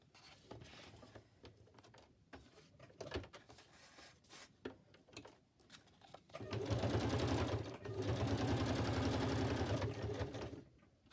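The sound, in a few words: sewing machine stitching paper journal ephemera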